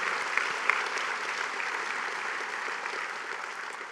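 Applause at a speech on preventing domestic and family violence, a steady wash of clapping from a large crowd, fairly distant and even, gently fading toward the end.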